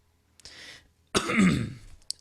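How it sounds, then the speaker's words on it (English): A soft breathy throat sound followed by one harsh, close cough from a man with a cold, with a rough tail, then a tiny click at the end. "Excuse my coughing."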